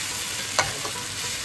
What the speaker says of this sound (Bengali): এবার চালটাকে আমরা ভেজে নেব।